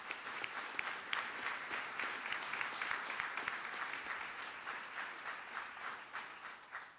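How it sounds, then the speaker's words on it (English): An audience at a time capsule opening in Peoria gives a warm round of applause, dense clapping that is moderately loud and fades slightly toward the end. "We'll give him applause now."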